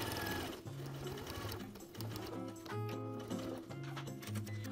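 A sewing machine topstitches a fly seam on jeans, its motor whirring steadily in close, loud bursts that stop and restart several times as the stitching goes on, with no talk.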